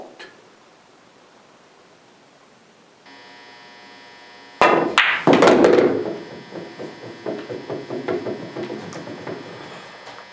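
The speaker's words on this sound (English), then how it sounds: "Stop shot. No axis of rotation. It stopped stone cold dead." A cue ball strikes an object ball on a billiard table in a stop shot, a single sharp crack rising out of quiet room tone, followed by a short clatter that fades away.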